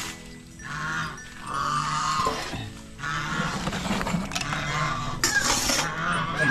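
Large ducks kept for feeding honk and quack in a noisy cluster, calls overlapping almost continuously and fairly close, with a steady din of flock sounds throughout.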